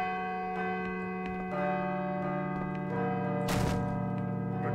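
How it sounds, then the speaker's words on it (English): A church bell rings in the survival horror game Call of Cthulhu: Dark Corners of the Earth, its long sustained tones layering into a steady hum, with a brighter struck clang partway through. "I should let the bell finish ringing"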